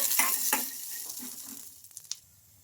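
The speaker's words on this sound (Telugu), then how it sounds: "ఈ మిర్చితో పాటు పల్లీలు కూడా బాగా ఫ్రై చేసుకోవాలి" Peanuts and green chilies fry in hot oil, a bright hiss with a couple of stirring scrapes early on that fades toward the end and gives way to a few small clicks.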